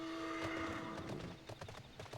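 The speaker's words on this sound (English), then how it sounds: "Oh, I was already on my horse." Horse hooves clip-clopping in the video game Final Fantasy XIV, a quick, soft run of hoofbeats under a steady tonal game hum, growing more distinct toward the end.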